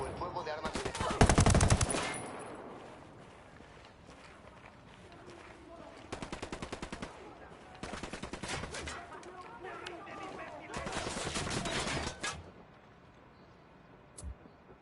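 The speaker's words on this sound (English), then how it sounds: "Opening fire on these fuckers." Bursts of automatic gunfire rattle out, a loud close volley at the start and then several shorter rapid bursts spaced through the clip, with quieter pauses between.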